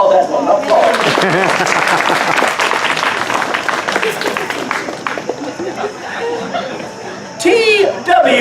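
A comedy-show crowd at a Renaissance festival claps and laughs together, loud bursts of applause mixed with chuckles and a performer's voice cutting in, thinning out before a final flare of clapping.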